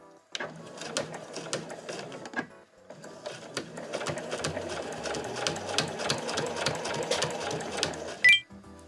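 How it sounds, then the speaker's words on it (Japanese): A home sewing machine runs continuously, back-stitching then sewing ahead through quilted nubi fabric for a tote bag, pausing briefly partway and ending with a sharp click, close and moderately loud. "では1センチ先に針を下ろして返し縫いからスタートします。"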